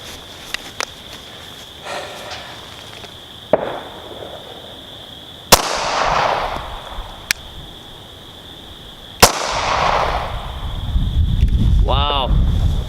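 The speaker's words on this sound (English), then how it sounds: "next we'll do 7 rounds standing 10 yards with the Kahr" A Kahr CW9 pistol fires at 10 yards, giving sharp, loud reports spaced a few seconds apart. Each crack has a short echoing tail, over faint wind and background noise.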